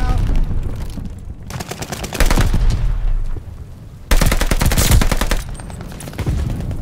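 Gunfire in the Call of Duty Vanguard video game, loud rapid automatic bursts and heavy shots in several volleys, with a player's voice briefly heard in between.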